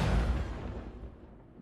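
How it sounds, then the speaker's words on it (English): A booming explosion in the game Insurgency: Sandstorm fades into a low rumbling tail over a second and a half, with no voices. "Lots of explosions."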